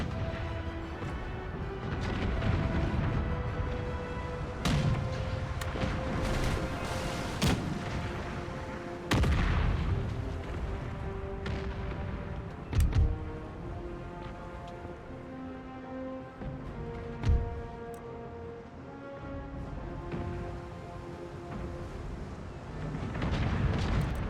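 Booming cannon fire from sailing warships, brigs, in a naval battle in Empire 2 Total War, as scattered heavy thuds, some distant and some closer, rolling over a constant din of battle and music.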